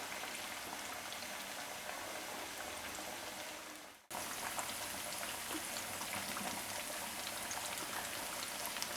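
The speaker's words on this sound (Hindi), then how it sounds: "मीडियम फ्लेम पे हम इसे पकाएंगे।" Fish frying in oil in a pan over a medium flame, a steady dense crackling sizzle that cuts out briefly midway and then resumes just as loud, with no talking.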